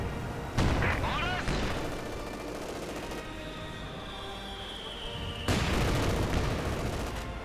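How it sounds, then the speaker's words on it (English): Heavy gunfire from a Company of Heroes 2 battle: loud bursts of shots and booms in two dense volleys, separated by a calmer stretch with a whining tone, and no speech. "Further heavy fire going on here."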